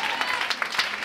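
A church congregation claps in a brisk, continuous burst of applause, dense and fairly close, lasting only a moment.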